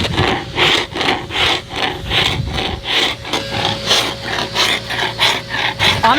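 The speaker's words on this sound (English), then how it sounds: "So if you ever have to scrape your boat, get something like this." A sharpened scraper tool is dragged over a sailboat hull in steady, rhythmic strokes, about a dozen loud, close rasping scrapes repeating evenly.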